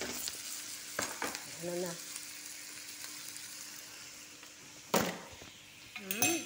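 Chicken pieces and chopped carrots frying in a pan for fried rice, a soft continuous sizzle with a few sharp clanks of a utensil against the pan and brief speech in between.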